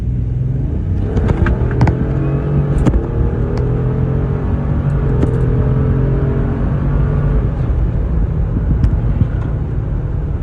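Ford Expedition with the 3.5 EcoBoost running on E85 accelerates from about 30 mph, a loud, steady low engine rumble and road roar building throughout with no one speaking.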